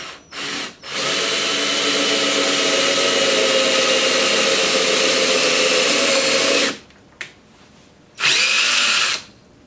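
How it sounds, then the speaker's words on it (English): A power drill bores a centre hole into a white oak blank for a woodworm screw, running loud and steady for several seconds, then stopping and briefly restarting in a short final burst. "drill a hole here in the center for my woodworm screw"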